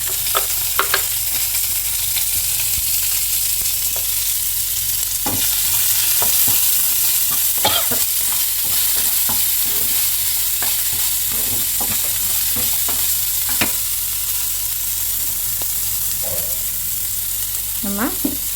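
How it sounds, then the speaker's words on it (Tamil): Garlic, curry leaves, onion and tomato sizzle steadily in a pan, a close, continuous fry with a few scattered clicks and scrapes of a spoon stirring over it. "பூண்டு கருவேப்பிலை எல்லாம் போட்டு வெங்காயம் தக்காளி போட்டு வதக்கணும்."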